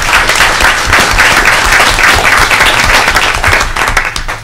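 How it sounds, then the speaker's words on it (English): Sustained, dense audience applause fills a conference hall at a July 2012 Harvard education gathering, loud and steady throughout before tapering slightly at the end. "I do really want to give an extra hand of applause to Nancy for your leadership."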